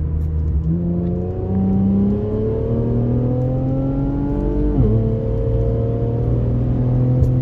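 An Infiniti Q60 with an aftermarket exhaust, valves open, revs up through third gear, its loud throaty exhaust note climbing steadily in pitch, briefly dipping, then pulling again.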